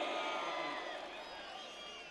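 A crowd at a Ganesh mandal prize-giving celebration claps and cheers, a dense, steady wash of applause with scattered whoops, fairly close and filling the whole moment.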